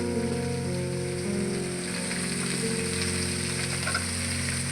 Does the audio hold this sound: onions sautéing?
yes